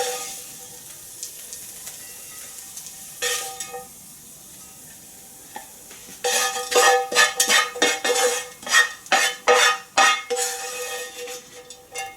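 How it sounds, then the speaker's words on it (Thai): Fried mussel pancake being scooped from a hot pan to serve, with steady sizzling throughout and a burst of sharp metal spatula scrapes and clinks against the pan in the second half; no talking. "ท่านผู้ชมก็เรามาตักเสิร์ฟกันเลยนะคะ"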